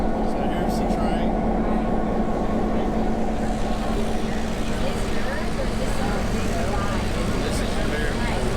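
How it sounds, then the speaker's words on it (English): Train passing near a campsite in the Dillsboro and Balsam Mountain area of North Carolina, heard as a loud, continuous mechanical roar with a steady low hum and rattling, constant in level throughout. "So here's the train."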